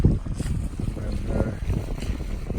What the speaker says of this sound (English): We're now on the sail, engine's off for a while